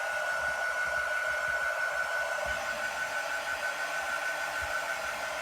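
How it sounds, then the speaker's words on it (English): A quick dry heat tool blows hot air in a steady, loud, unbroken whir close by, with a faint high tone running through it and no talk. "So I'm going to grab my quick dry tool here."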